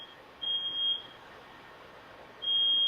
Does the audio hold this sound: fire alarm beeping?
yes